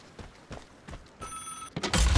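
In the video game Vigor, a telephone gives one short, bright electronic ring over soft footsteps, followed by louder thumping movement.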